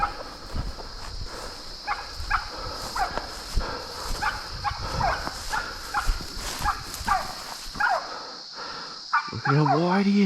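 Several dogs bark in short, repeated bursts at a wild boar over a noisy outdoor scene with rustling and scuffling, with someone speaking near the end.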